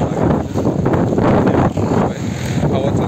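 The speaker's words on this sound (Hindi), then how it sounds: "हवा चलती है बहुत खतरनाक वाली" Strong storm wind buffets the microphone in loud, roaring gusts, a near continuous blustery rush with brief dips, as someone talks over it.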